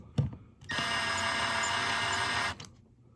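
A Milwaukee 12-volt cordless screw gun drives a screw into 3/4 inch plywood in one steady whirring run of about two seconds, close and fairly loud, preceded by a brief click and clatter.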